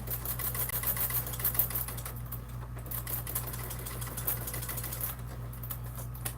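A sewing machine stitches a bag in a steady, quiet mechanical whir with a fine rapid ticking, running continuously at low volume.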